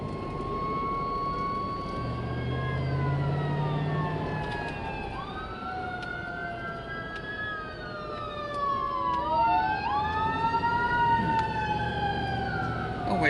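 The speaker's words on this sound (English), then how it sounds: "always sad to see a fire truck going." A fire truck siren wails past outdoors, its rising and falling tones sweeping and bending in pitch as it nears and recedes, loud and sustained over steady traffic rumble.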